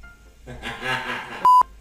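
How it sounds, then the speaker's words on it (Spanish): A mobile phone rings with a short melodic tone sequence that ends in a sharp, loud electronic beep, heard up close. "me suena el móvil"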